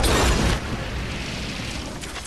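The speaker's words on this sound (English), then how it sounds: "Yay, explosions, Leno, yay." A loud explosion in the video game Uncharted 2 booms at the start, then settles into a sustained rumbling roar for the rest of the moment, dense and close with no voices over it.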